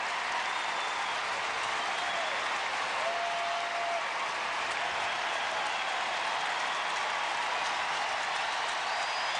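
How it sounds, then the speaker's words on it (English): A large baseball crowd at an Astros home game against the Cardinals gives loud, steady applause that holds without a break for the full stretch, with no voices standing out above it. "Very supportive crowd"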